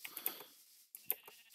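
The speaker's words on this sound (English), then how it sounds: "Everywhere I turn, sheep." Sheep in the game Minecraft bleat in two short bursts, a couple of close, quiet wavering bleats, then a pause and another brief bleat, with no talking.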